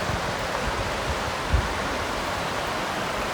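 A mountain waterfall in Corsica pours down as a steady, broad rush of water, constant and fairly loud throughout with no voices.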